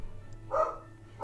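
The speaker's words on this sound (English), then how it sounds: "my dog is barking" A single short bark from a pet dog somewhere in the house, faint and slightly distant against a quiet room.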